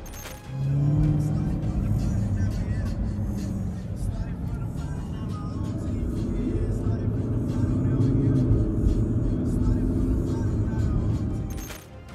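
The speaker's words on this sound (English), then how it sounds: "This is a Ferrari 612." Ferrari 612 on the road, a steady low engine rumble and road noise that lasts most of the clip and swells slightly midway, with a person speaking over it.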